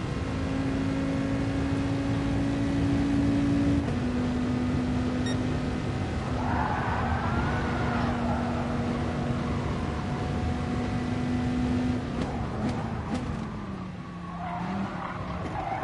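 A Dodge Viper in a racing video game, its engine droning steadily at high revs with a brief tyre squeal midway and a dip as it shifts near the end, loud and close with no talk.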